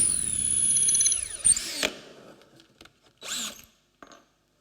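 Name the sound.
drilling a chisel handle with a 1/4 inch bit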